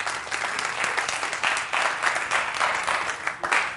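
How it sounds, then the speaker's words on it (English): An audience at a pastor's sermon breaks into steady applause, a dense wash of many hands clapping at moderate distance that keeps going for a few seconds. "Give me a hand clap."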